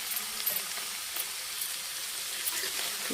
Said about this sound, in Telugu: ఇప్పుడు వేగుతాయి కదా.